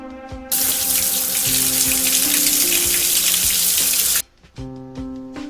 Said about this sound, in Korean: 여자친구가 샤워기 물 트는 소리,